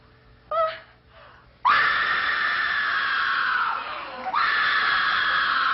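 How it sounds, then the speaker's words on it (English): A woman lets out a loud, sustained high-pitched scream in the style of Kate Capshaw's in Indiana Jones and the Temple of Doom, with a brief gasp before it and a short dip midway before the shriek swells again. "Can we hear that scream that you did for Kate Capshaw in Indiana Jones"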